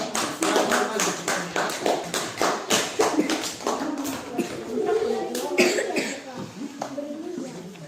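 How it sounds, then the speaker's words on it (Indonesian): Classroom students clap for a group that has just finished presenting, a burst of scattered, uneven hand claps close by with a few coughs and voices mixed in, tapering off toward the end. "ini tepuk tangan sama kelompok yang baru maju"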